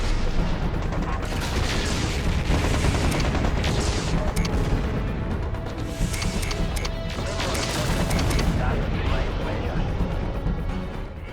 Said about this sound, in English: Between the long-range PPC fire, Claymore's short-range weaponry, and the friendly turrets, we take care of all the incoming mechs.